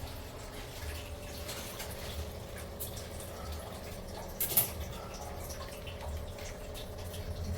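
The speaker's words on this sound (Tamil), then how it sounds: "ஃபஸ்ட்டு வந்து பால் தான் ஊற்றணும்" Milk pours steadily into a pongal pot, a continuous liquid splashing and trickling at moderate distance, with a slightly louder splash partway through.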